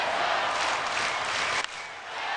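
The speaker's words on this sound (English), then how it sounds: "the crowd now has finally gotten into it" A baseball stadium crowd at a Tigers versus Red Sox game cheers in a broad, sustained roar, fairly distant and even, dipping briefly near the end.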